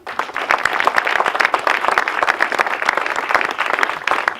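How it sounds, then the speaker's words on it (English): A round of applause from an audience at the ribbon-cutting opening of the Casey Swim Center, steady dense clapping throughout, close and loud, with no talking. "Please join me in giving a round of applause for their enormous efforts"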